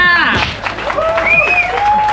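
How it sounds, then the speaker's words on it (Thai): A crowd at a YouTubers' meet-up party with roast cow and pig claps loudly for a host, mixed with cheering, whoops and excited voices at close range. "เอาไปเสียงปรบมืออีกรอบค่ะ"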